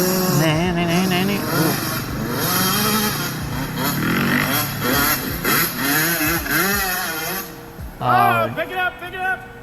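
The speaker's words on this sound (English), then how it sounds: "This is a video of my buddy sliding out in the corner during some mud motos." Dirt bike engines rev and strain during a muddy motocross race, a loud, wavering motor drone rising and falling throughout while someone talks over it.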